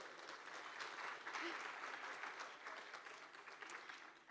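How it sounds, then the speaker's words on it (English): Steady applause from a conference audience at the Cosmoverse 23 crypto event, a dense wash of many hands clapping at moderate distance, fairly faint and sustained throughout with slight swells. "Applause, come on."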